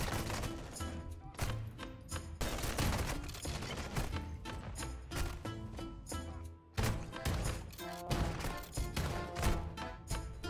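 Dense, rapid gunfire from a firefight in the Call of Duty Modern Warfare 2 campaign, with bursts of shots and heavy impacts crowding together almost without pause, loud and close.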